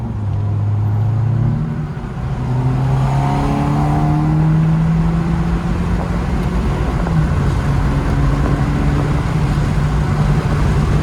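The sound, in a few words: 2012 Mazda 3 engine revving with short ram air intake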